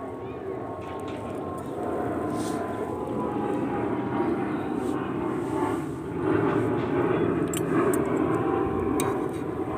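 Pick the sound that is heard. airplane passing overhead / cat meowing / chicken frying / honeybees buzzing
airplane passing overhead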